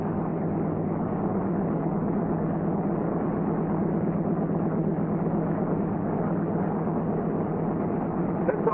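A C-47 aircraft engine runs at 1,500 RPM, a steady, unbroken low drone that holds level and loud throughout without pauses.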